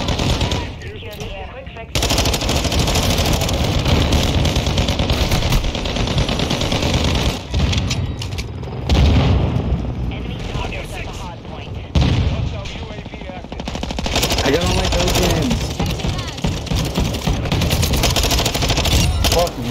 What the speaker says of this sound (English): I thought I was shooting at a wall